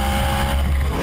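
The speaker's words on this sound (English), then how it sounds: "It's got a really raucous sound to it that makes you almost feel as if you're in a real thoroughbred racing car" BMW M3 GTS exhaust, a raucous, loud engine note held steady at close range for about a second, with no voices.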